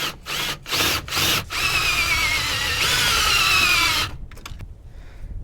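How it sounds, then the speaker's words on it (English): A power drill run in reverse pulls back a car serpentine belt tensioner, whirring in short bursts, then running steadily for a few seconds, its pitch shifting under load, before stopping with a few clicks. "We're just going to reverse our drill and start pulling the tensioner"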